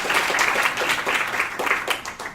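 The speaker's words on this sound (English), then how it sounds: "Please, everybody clap your hands and wake up." An audience claps hands together at a health and wellness science event, producing a dense, steady wash of applause that stays loud throughout with no clear break.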